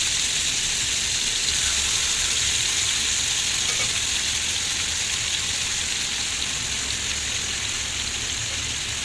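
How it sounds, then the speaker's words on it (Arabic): Chicken drumsticks sizzle and fry in a very hot pan, a loud, steady crackling hiss running unbroken throughout with no talk. "الطاسه سخنت جامد. هحط بقى كده الدبابيس كلها كده اديها لون احمر"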